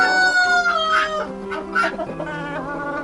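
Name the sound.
chickens clucking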